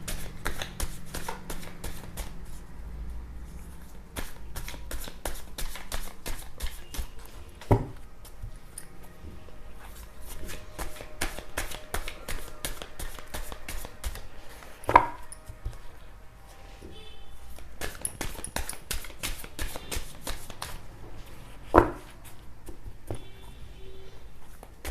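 Tarot cards being shuffled by hand in bursts of rapid riffling clicks, with short pauses and a few sharper slaps between rounds, close up and fairly quiet.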